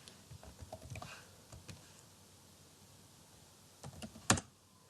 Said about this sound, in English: just type math and enter a period and then start typing this